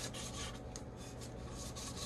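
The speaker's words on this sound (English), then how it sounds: "We do a little sanding around these edges" Steady, continuous rasping rub of sanding along the edges of an epoxy-free glitter tumbler, close and even in level for the whole stretch, with no voices.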